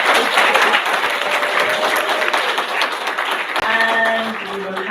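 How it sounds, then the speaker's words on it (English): Audience at an author conversation event applauding for the author Jennifer, a loud dense round of clapping sustained throughout, with some voices heard underneath toward the end. "one last round of applause to Jennifer"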